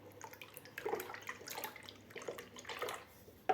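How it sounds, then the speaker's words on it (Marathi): Yogurt and water are whisked together for kadhi, giving soft, rhythmic sloshing and stirring strokes close by, quiet and alone. "थोडंसं याला घुसळून घेऊया"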